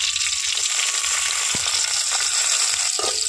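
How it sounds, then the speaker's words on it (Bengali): Ginger, green chilli and black mustard seeds frying in mustard oil, a steady close sizzle with faint crackles and a soft stirring knock. "আদা, কাঁচা লঙ্কা, সরষে খুব ভালোভাবে ভেজে নিয়েছি এখানে"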